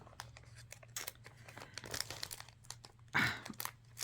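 A plastic bag of crochet kit goodies crinkles and rustles up close as it is handled and opened, with irregular crackling bursts and a sharper tearing crunch near the end.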